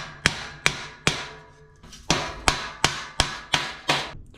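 Hammer strikes driving metal pieces of a VEVOR heavy-duty steel shelf into their slots, about ten sharp ringing bangs in an uneven rhythm with a short pause midway, loud and close with no talking.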